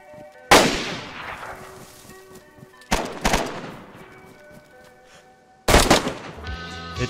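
Three loud rifle shots of 7.62x39 ammunition in the DayZ video game, each a sharp crack with a long decaying tail, spaced a few seconds apart, with no talking.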